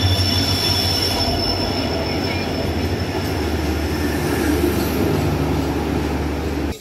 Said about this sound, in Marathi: आमची कोकण कन्या ट्रेन आलेली आहे आता